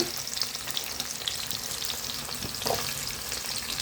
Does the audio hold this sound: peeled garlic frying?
yes